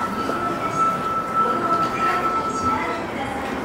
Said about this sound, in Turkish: tren burada galiba.